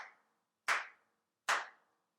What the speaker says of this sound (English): What we do is we clap.